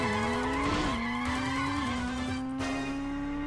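A toy-style race car in the PS1 game Choro Q 2 drifts with a continuous loud tire squeal, layered over a droning engine tone that shifts pitch slightly as the slide goes on.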